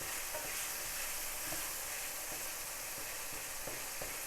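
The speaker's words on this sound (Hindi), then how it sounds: "लेकिन मैं इसे मज़ीद अभी भूनूंगी कि टमाटर इसमें बिल्कुल नज़र ना आए।" Keema with tomatoes fries and is stirred in hot oil, a steady close sizzle with soft spoon scrapes and light taps throughout, no voices.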